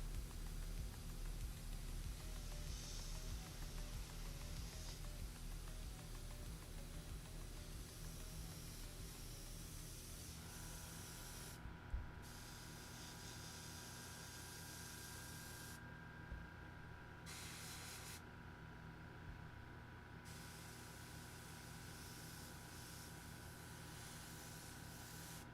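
An airbrush sprays paint onto a Ma.K SF3D Oskar model kit, giving a faint, steady hiss that runs on with brief gaps and small clicks, with no talking.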